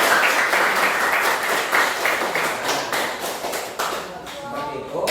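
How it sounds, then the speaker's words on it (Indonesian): A classroom of students applauds all the student groups with a steady wash of clapping throughout, and a teacher's voice is heard over it. "Boleh kita kasih aplaus untuk semuanya."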